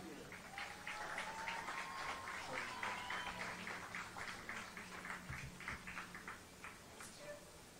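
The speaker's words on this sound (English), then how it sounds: "Let's have another round of applause for our Panther seniors." Scattered clapping from a crowd at a field hockey senior day ceremony rings out in a large, echoing space, steady for several seconds with a faint whistle or cheer above it.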